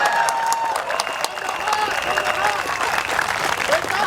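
Rally crowd at an outdoor political gathering in Singapore's Chinese Garden breaking into sustained applause, a dense wash of many hands clapping at moderate distance with some voices mixed in.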